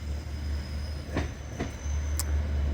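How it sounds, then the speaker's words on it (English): Train pulling into Corrour railway station, the most remote station in the UK, with a low steady rumble, a faint high whine and a few sharp squeals or clanks of wheels, fairly close, with no talk. "Here comes my 12-minute journey to the most remote train station in the United Kingdom."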